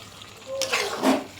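Chicken korma with browned fried onions is stirred in a pot, giving a couple of short scraping, squelching strokes of the spoon against the pot.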